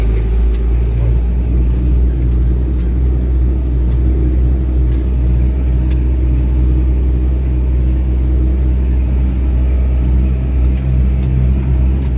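A tractor engine runs steadily at close range, a loud, continuous low rumble and drone that holds constant throughout, with no talk over it, as the tractor works a field rolling it with KKSh-6 rollers to seal in soil moisture.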